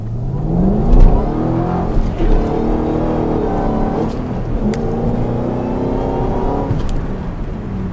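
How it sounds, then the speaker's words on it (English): A 2012 Ford Mustang Shelby GT500 accelerates at full throttle, its engine roaring loud and close with rising pitch through several gear shifts over about seven seconds, heard from inside the car. "we'll go ahead and see if we can't do a full throttle run here real quick"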